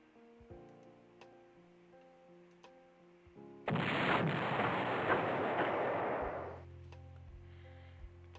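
Artillery firing in the Panzer General strategy game, a loud sustained burst of blast noise lasting about three seconds that rises abruptly out of quiet tones and background ticks, then fades back to music.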